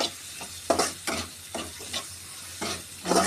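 Dry fish being stirred with masala in an oiled pan, a series of scraping stirs with soft sizzling frying underneath, close and clear, no voices.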